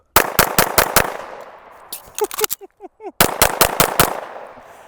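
Rapid pistol gunshots on a shooting range during a drill, a quick string of sharp close reports, a brief pause with handling clicks for a reload, then another fast string of shots.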